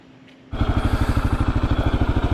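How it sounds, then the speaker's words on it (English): A 2022 Kawasaki KLR 650 Adventure with ABS starts up after a quiet moment, and its single-cylinder engine then chugs loud and close in a rapid, even pulsing thump. "my first ride on my 2022 KLR 650 Adventure model with ABS"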